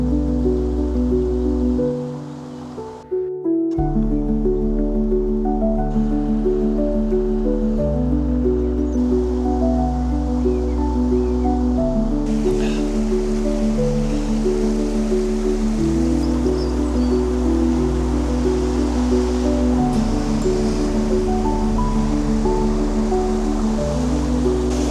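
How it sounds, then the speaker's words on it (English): A river in Snowdonia's Aberglaslyn Pass rushes steadily and fills the whole stretch with constant close, broadband water noise. It dips briefly early on, with no voices over it. "An absolutely stunning river."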